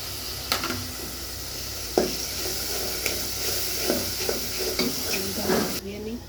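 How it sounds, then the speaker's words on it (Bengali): Masala paste, made with ground cumin among other spices, sizzles and fries in a pan at a Bengali home cooking session, with repeated stirring scrapes and clinks of the spoon against the pan over a steady hiss. "এবং মশলাটা কষানো হয়ে গেছে"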